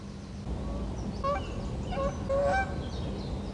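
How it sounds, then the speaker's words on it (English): Several honking duck calls ring out in a short burst at night in a graveyard, moderately close, over a low steady background hum. "That duck must have knew there was a microphone in the graveyard, because it was making an awful lot of noise."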